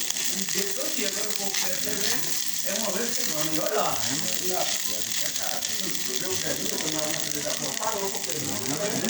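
Rice fries in a pan with a dense, continuous sizzle and crackle, heard close up under a person talking.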